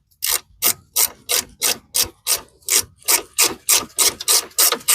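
A ratchet tightens the brake line locator bolt on a MK7 Fiesta, giving a steady, close series of about fourteen rasping clicks with no talk.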